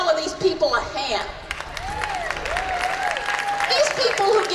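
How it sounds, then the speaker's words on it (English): An outdoor charity walk crowd breaks into applause, a steady scattered clapping with some cheering under a voice speaking over a loudspeaker. "And let's give all of these people a hand."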